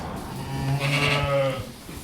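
A flock of sheep bleats nearby, one drawn-out, wavering bleat dominating over fainter background calls from other animals.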